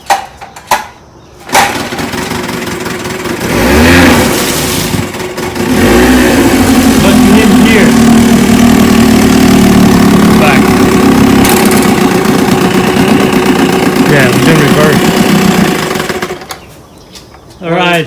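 A 1963 Johnson QD-24 10 HP outboard motor, test-run in a water barrel, starts after a brief crank and then runs steadily and loudly close by for about fifteen seconds before cutting off.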